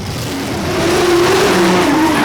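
Blown V8 street machine revving at Summernats, a loud sustained engine note climbing slightly in pitch and holding steady throughout, close and continuous with no voices.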